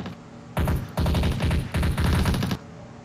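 Rapid automatic gunfire in a mixed reality shooting game comes in loud bursts after a brief quieter lead-in, the rattling shots breaking into several runs separated by short pauses.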